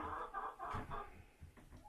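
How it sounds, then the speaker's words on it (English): Hens clucking in a coop during egg collection, a run of short throaty calls overlapping close by with no talk. "There's chicken. chickens? Yeah, and one chicken tries to escape."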